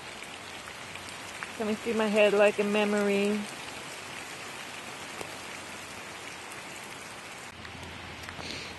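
A rain machine produces artificial rain, a steady, even hiss of falling water that continues throughout; a voice sings briefly over it near the start.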